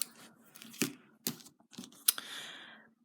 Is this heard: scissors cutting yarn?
yes